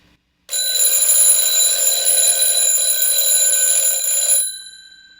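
Alarm clock ringing with a loud, steady electronic tone that starts abruptly after a moment of silence, holds for about four seconds, then cuts off with a short fading tail.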